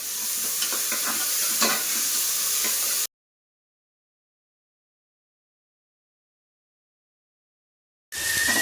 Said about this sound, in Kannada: 1 ನಿಮಿಷ ಈರುಳ್ಳಿ ಮತ್ತು ಟೊಮೊಟೊ ಎಲ್ಲ ಚೆನ್ನಾಗಿ ಮೆತ್ತಗಾಗೋವರೆಗೂ ಹುರ್ಕೊಂಡು